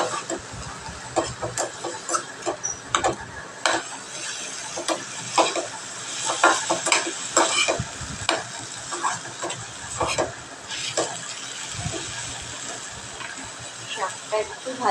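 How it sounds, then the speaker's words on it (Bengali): Leafy greens frying in a home kitchen pan on a rainy morning, stirred with a utensil: crackling sizzle under repeated scraping and clinking strokes, close and fairly loud, with someone talking over it at times. "শাকটা একটু ভাজা ভাজা হোক"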